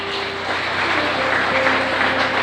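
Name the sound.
church congregation applauding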